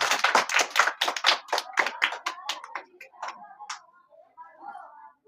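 A group of children claps in a village coaching classroom, a quick run of loud applause that thins into scattered claps and quiet murmuring.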